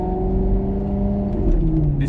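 A Maserati MC Stradale engine drones while driving, its steady harmonic note shifting slightly in pitch as revs change, close and continuous.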